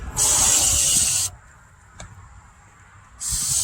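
Brake cleaner sprays onto a sanded, scratched car tail light in two loud hissing bursts, a longer one and then a second after a pause, with a brief tap between them.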